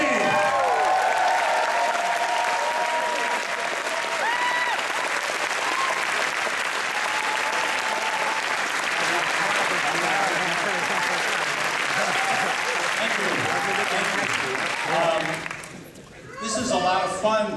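Noisy cinema crowd applauding at a late-night world premiere screening in Toronto, a dense, steady roar of clapping with scattered cheers that fades out near the end, with voices mixed in.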